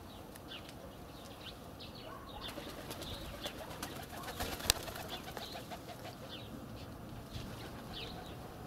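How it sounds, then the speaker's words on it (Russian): Wild pigeons cooing on a building ledge close by, a soft steady stream of repeated coos and faint calls over light outdoor background noise, with no talking. "голуби дикари тут же рядышком"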